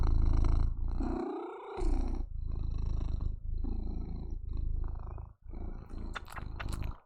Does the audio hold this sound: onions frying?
no